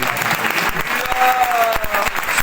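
Applause fills a church service after a baptism celebration, a steady wash of many hands clapping with a faint sustained tone running through it and no clear speech.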